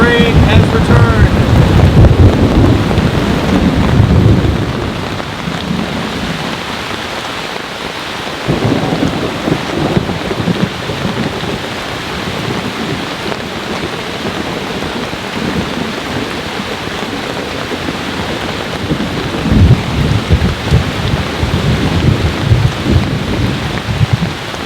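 Heavy storm rain drums hard on a large Japanese tent, loud and dense throughout, with a strong gust-like surge at the start and deep thunder rumbling through the downpour, swelling again near the end.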